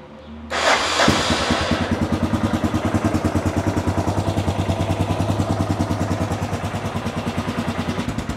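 A 1988 Yamaha Ténéré 600 single-cylinder motorcycle cranks and fires up, then settles into a loud, close, steady idle with a regular, lumpy thumping beat.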